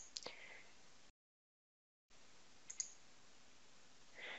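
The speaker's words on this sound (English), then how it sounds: "we're going to click on this Create button" A mouse click lands on a Create button in STAAD.Pro structural modeling software, with a couple of faint, quick clicks in a quiet room separated by a short silent gap.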